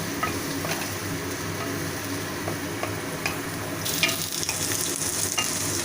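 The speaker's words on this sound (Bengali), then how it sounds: "এরপর পেঁয়াজটাকে একটু ভাজবো আলুর সাথে।" Onion paste and potatoes sizzle in a hot pan with a continuous loud crackle, and occasional scraping stirs grow brighter near the end.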